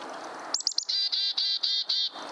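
A chickadee calls close by in a short, bright burst: a few quick chirps, then a run of five clear, evenly spaced whistled notes, with no voices over it.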